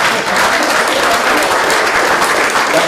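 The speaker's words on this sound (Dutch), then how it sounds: "Applaus." Loud, dense applause from a crowd at a local event in Breda, a continuous roar of many hands clapping throughout the short stretch.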